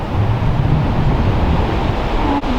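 Strong wind blows across a mountain peak in New Hampshire, a loud, continuous roar buffeting close to the microphone and dominated by low rumble. No speech.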